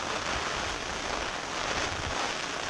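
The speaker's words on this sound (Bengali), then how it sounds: "আর বৃষ্টি তো প্রচণ্ড বৃষ্টি পড়ছে" Heavy rain pours down during a storm, a dense, steady, close hiss of falling water that fills the whole stretch without a break.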